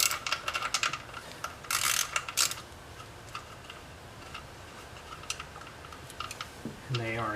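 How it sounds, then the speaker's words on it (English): A wrench working a 10 mm nut and bolt during a SPICA reinstall, with light metallic ticking and ratcheting clicks in short bursts up close, fairly quiet, with brief talk near the end. "So we'll get the wrench and get those off."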